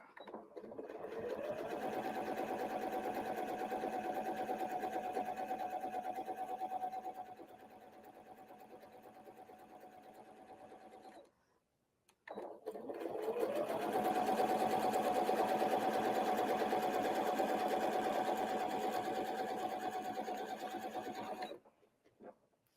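A domestic sewing machine doing free-motion quilting with a ruler runs in two steady bursts of rapid, even stitching, close and fairly loud, with a short pause between; no one talks.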